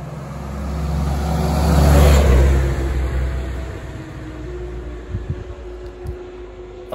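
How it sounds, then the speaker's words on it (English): A Willys Jeep drives past, its engine swelling to a loud peak then receding, with the whine of its big cooling fan running under the mid-range motor drone. "Nothing else sounds like a Jeep with the whine of that big fan"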